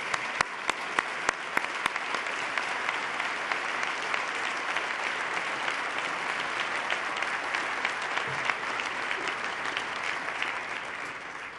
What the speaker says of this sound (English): Please stand, gentlemen, so we can give you a round of applause.